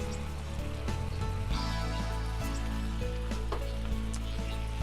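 Steak Diane sauce of mustard, steak sauce and parsley bubbles and sizzles steadily in a pan, a dense continuous crackle with occasional louder pops and a spoon stirring through it.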